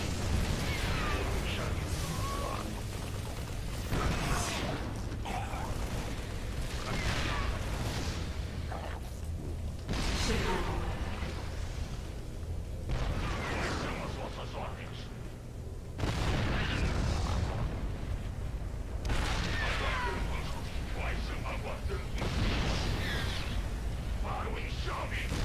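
Yamato cannon blasts in StarCraft 2 gameplay: repeated heavy booms and bursts roughly every few seconds over a continuous loud wash of game noise.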